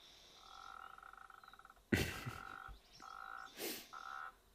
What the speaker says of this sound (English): Eastern olive toad, I believe.